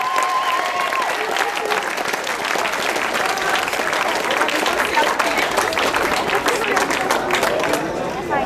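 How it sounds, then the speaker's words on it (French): Sustained applause from a crowd at a youth bouldering competition in L'Argentière, greeting the gold medal winner; dense, steady clapping fills the whole stretch at even loudness, with faint murmur beneath. "applaudissements pour Margot Pucheux, médaille d'or."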